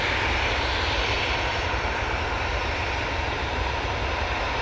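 An Airbus A320 in Star Alliance livery departs Manchester Airport, a steady, broad engine roar held at constant loudness throughout, with no talk.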